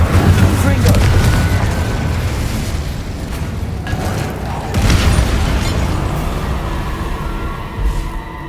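Incendio and Confringo spell blasts in Hogwarts Legacy, with repeated booming impacts and fiery whooshes over a continuous rumbling game soundtrack.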